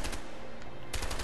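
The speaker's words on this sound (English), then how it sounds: "Shooting at me from above." Rapid gunfire in the video game A Way Out, a shooter firing from above in fast, loud bursts with a short lull before another burst.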